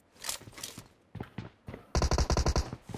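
Gunfire in PUBG Mobile, with scattered single shots and footstep-like thuds giving way to a loud, rapid automatic burst of evenly spaced shots near the end, close and punchy.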